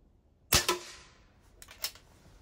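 A pump air rifle fires pellets in two quick sharp cracks, each with a short snap or impact after it, close and fairly loud against quiet surroundings.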